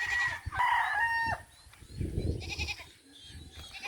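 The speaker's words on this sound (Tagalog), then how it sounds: "Alaga kong kambing." A farm goat bleats in a short, strained outdoor call in drizzly weather in Bicol, followed by quieter animal and rustling sounds, with faint bird or fowl calls in the background.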